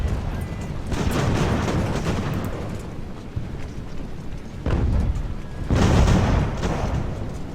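Cannon fire in the Ultimate Admiral: Age of Sail video game: dense, rumbling volleys of artillery that roll on continuously, with heavier booming bursts swelling near the middle and end.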